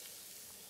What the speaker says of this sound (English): here I'm just gonna continue frying my onions till they are nicely colored